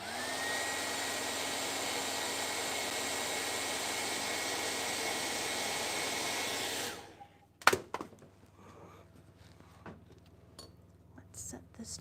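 A hair dryer blows steadily to dry a water slide transfer, a loud, even rushing whoosh lasting several seconds before switching off, followed by a sharp clatter and faint handling sounds.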